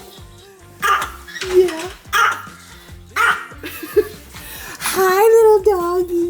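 Several short, sharp barks and yips from a dog close by, in repeated bursts across the clip, with a person talking and laughing between and over them.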